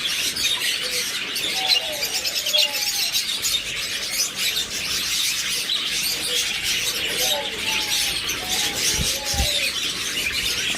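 Big, bangles-sized caged birds at a bird sale chirp and coo steadily, with overlapping near and mid-distance calls, short tweets and a few soft low coos over a constant bright chatter.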